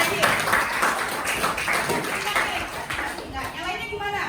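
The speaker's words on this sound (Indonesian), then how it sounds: "beri tepuk tangan dulu untuk Raji" A classroom applauding a student, with a short burst of clapping from several pupils that fades under a teacher's voice.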